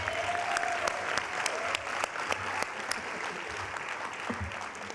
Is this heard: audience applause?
yes